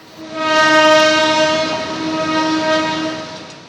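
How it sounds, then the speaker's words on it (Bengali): A passenger train departing Kamalapur railway station in Dhaka rumbles past steadily with a long, loud horn blast sounding throughout, close by and without talk. "ট্রেন ছুটছে।"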